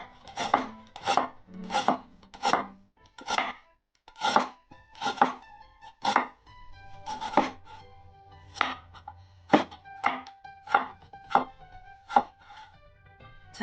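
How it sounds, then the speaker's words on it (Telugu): A large onion is chopped with a knife in a village kitchen, with about twenty crisp, evenly spaced cuts striking a board up close. The cuts come in a steady rhythm with no talking. "చక్కగా ఇలా చాప్ చేసుకోండి"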